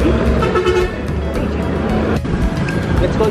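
Philippine jeepney and other street traffic rolling past close by, a loud steady engine rumble with a short horn toot in the middle, and no talking.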